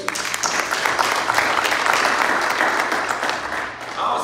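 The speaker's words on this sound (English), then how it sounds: "Give him a hand clap of praise." A church congregation gives a sustained round of applause at a Sunday service, dense overlapping hand claps filling the room at an even loudness for several seconds before easing slightly near the end.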